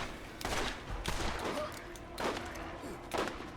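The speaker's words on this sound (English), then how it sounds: "Shot him in the face." Gunfire from Borderlands Game of the Year Enhanced: four loud, sharp shots spaced about a second apart, each with a short rumbling tail, close and in the foreground.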